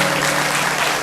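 Congregation at a church sermon applauds in a dense, steady wash of clapping that fills the brief moment with no voices.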